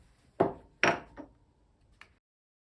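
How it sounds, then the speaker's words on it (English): Wood carving gouge tapped around the edge of a card table's ball and claw foot, three or four sharp woody knocks spaced apart, close and quiet, with silence after. "taking a gouge and tapping it, and just going around"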